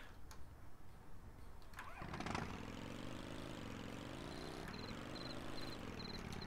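A quad bike engine in the video game Tomb Raider III starts up and settles into a steady, buzzing idle with a rising and falling drone, loud and continuous, with a repeating high electronic beep near the end and no talk.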